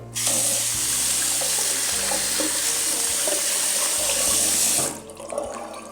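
Tap water runs hard and steady for about five seconds as something is rinsed off after cleaning with citric acid, then it cuts off, leaving a few faint drips and clatter.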